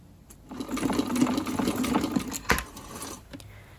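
A sewing machine stitches a zip into a skirt, its motor whirring in a steady run of rapid stitching after a brief pause at the start, close and fairly loud, ending with a few clicks.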